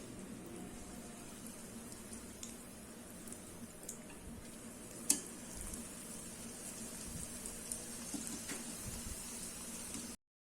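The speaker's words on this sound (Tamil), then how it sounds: "இப்போ இந்த ஆயிலே நம்ம முந்திரி திராட்சை பொரிச்சுக்கலாம்." Cashews and raisins fry in hot oil left over from making boondi for Diwali sweets, giving a steady, soft bubbling sizzle close by with a few faint clicks, no voices, for about ten seconds.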